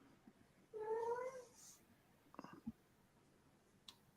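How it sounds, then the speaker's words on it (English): A house cat gives one drawn-out, whiny meow up close in a quiet room, followed by a few soft clicks and small taps. "Meowing like a bitch."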